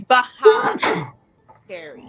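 A person sneezes during a casual tabletop game session, with a couple of short explosive bursts followed by quieter talk.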